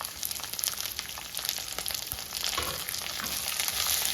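Chopped onion and curry leaves fry in hot oil in a pan, giving a dense, continuous hiss and crackle that swells slightly toward the end, close up with no talking.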